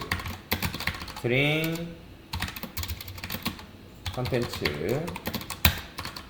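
Keyboard typing while entering Java code for a Spring Boot lesson, rapid irregular clicks running under someone speaking Korean nearly throughout.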